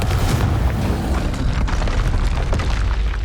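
A Confringo fire spell explodes in Hogwarts Legacy, a loud dense roaring blast that fills the whole moment with a heavy low rumble and crackling noise, with no talk.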